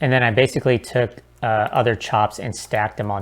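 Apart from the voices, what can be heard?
No everyday noises stand out.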